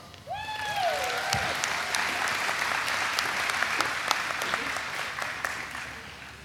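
An audience at the 2018 TCNJ Elementary and Early Childhood Education commencement ceremony applauds the Early Childhood master's graduates. A brief voice opens, then dense, sustained clapping fills the hall at an even level throughout.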